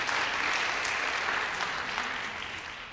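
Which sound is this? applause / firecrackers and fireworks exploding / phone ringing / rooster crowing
applause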